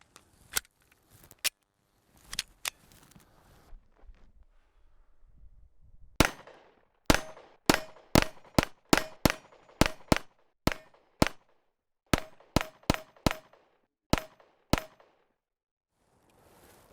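A Glock pistol with a Grey Ghost V4 slide fires a series of sharp, loud shots outdoors, a few scattered at first, then a fast cluster of rapid shots with short pauses between bursts.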